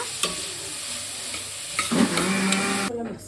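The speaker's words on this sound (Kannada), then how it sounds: "ಪ್ಯಾನಿಗೆ ಆಯಿಲ್ ಹಾಕ್ಕೊಂಡು ಈರುಳ್ಳಿ ಹಾಕ್ಕೊಂಡು ಗೋಲ್ಡನ್ ಬ್ರೌನ್ ಬರೋವರೆಗೂ ಹುರಿಯೋಣ" Onions frying in oil in a pan, with a steady close sizzle punctuated by scraping stir strokes and a clink near the end.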